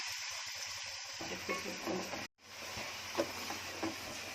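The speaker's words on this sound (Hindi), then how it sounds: "प्याज गुलाबी होने तक भूनूंगी" Onions frying in a pan for a sprouted field bean pulao, a steady close sizzle with soft stirring scrapes, broken by a brief drop to near silence midway before the frying resumes.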